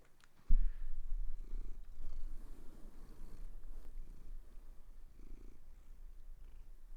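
A cat purrs close by, a soft, low and steady rumble that carries on throughout.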